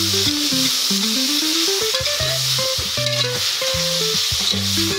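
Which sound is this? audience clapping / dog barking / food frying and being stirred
food frying and being stirred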